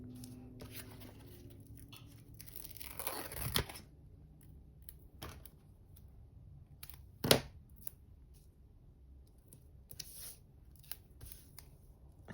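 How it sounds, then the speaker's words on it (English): Scissors snip strips off a stamped paper card in quiet, sparse, close cuts, with a few sharper snips and faint paper handling between them. "a strip down each side. And snip it off."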